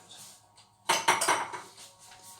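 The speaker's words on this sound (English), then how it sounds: "then we can return to whisking" Whisking souffle pancake batter in a bowl, heard as a quick burst of clinking metal-on-bowl strokes that starts abruptly, then settles into lighter scraping. Close and moderately quiet, with no talking.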